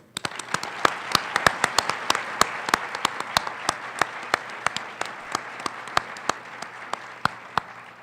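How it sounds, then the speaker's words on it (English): Audience applause at an MLK Day 2014 evening program, honoring members of an artistic expression performance: steady, dense clapping from a sizable crowd, with sharp individual claps cutting through throughout. "Will you please join me in giving another round of applause to the members of the artistic expression performance"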